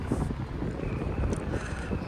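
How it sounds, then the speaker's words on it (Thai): Wind blows outdoors behind Rajamangala Stadium in Bangkok, a steady low roar and buffeting against the microphone that continues without a break. "โอ้โหลมดีมากเลยอะหลังรามนี่ลมเย็นสบายมากเลย"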